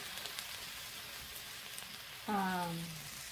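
A couple of bacon slices hit the hot griddle of a Nostalgia Electrics Retro Series 3-in-1 breakfast station, and a loud sudden sizzle jumps up over the soft background hiss and keeps crackling.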